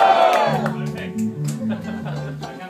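An audience shouts and cheers together on cue, a loud burst of many voices at once that fades over a couple of seconds.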